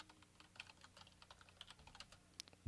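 Quiet keystrokes tapping out a message on a computer keyboard, an irregular run of soft clicks with no talking, ending in a louder thump.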